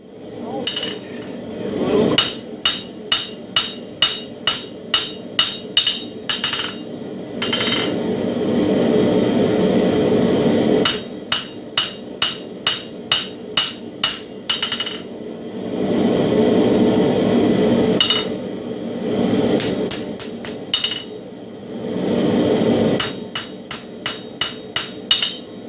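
A hammer forges the spine of a hot steel herb chopper blade, ringing in quick rhythmic runs of sharp metallic blows, separated by short pauses and duller scraping between sets.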